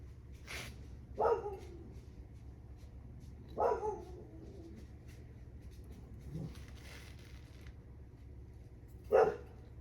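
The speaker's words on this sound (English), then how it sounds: "Let's see if we can get Torch in here to stop barking." A dog barks four separate times at irregular intervals, fairly close, against a steady low background hum.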